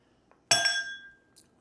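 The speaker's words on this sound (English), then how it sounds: "let's go ahead and put our ice into the glass" Ice cubes drop into an empty highball glass, a single loud, sharp glassy clink with a ringing tail and a smaller tick just after, close up and alone.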